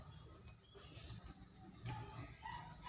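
Domestic pigeons in a backyard loft give soft, low cooing calls, faint and steady against a light background hiss, with no talking.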